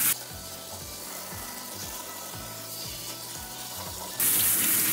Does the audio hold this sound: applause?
no